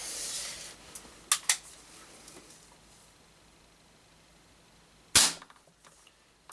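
An ASG Schofield .177 air pistol fires Econ 2 7.5 grain pellets, giving sharp, close snaps: two quick cracks early, then a louder single shot after a quiet pause, with faint handling clicks between.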